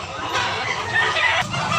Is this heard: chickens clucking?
yes